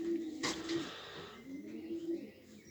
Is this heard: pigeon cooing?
yes